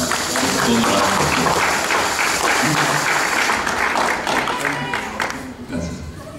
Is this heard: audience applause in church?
yes